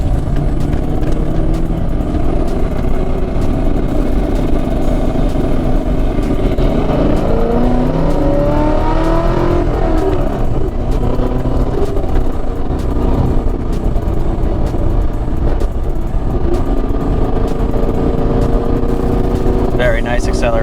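A 2014 Chevrolet Camaro SS/RS with a helical limited-slip differential accelerates hard, its loud, steady engine roar droning throughout.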